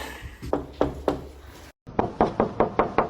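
Knuckles rap on a door in two bursts, three sharp knocks, a short pause, then a faster run of about five, loud and close.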